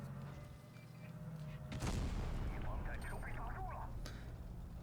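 Tank cannon shots in the World of Tanks Blitz game, a sharp blast followed by another later, heard faintly beneath a voice talking throughout.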